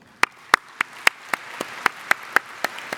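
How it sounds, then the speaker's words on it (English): Applause for a sponsor at a technical papers fast forward session, heard as a series of about a dozen sharp, evenly spaced claps rising over a quiet room, fairly faint and with no talk. "Let's give them a round of applause."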